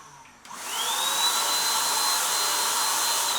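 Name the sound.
Dextra cordless paint sprayer spraying paint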